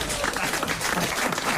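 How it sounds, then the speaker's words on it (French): Applause from a live studio audience at a French comedy joke show, a steady, close burst of clapping lasting the whole short moment with some murmur mixed in. "n'applaudissez pas, c'est mon métier"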